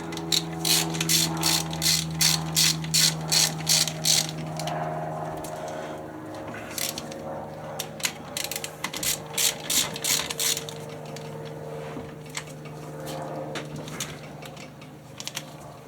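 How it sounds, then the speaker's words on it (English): Torque wrench ratcheting bolts down on a Banshee ATV build with a 4 mil 421 Cheetah Cub engine: two runs of rapid, sharp mechanical clicks, close and clear, separated by a quieter pause of light handling noise. "I'll get my torque wrench out and torque these down to the specs"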